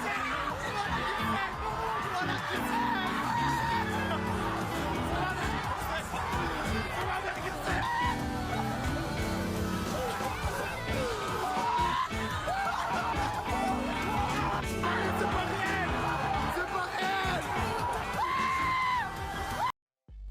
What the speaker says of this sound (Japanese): もはや奇声とも言えるほどの大歓声。